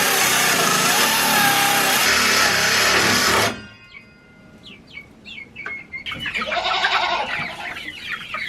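Young chicks out in a backyard, first with a loud broadband stretch of rustling and noise, then several short high peeps and soft clucking calls close by, with a busier cluster of chirps near the end.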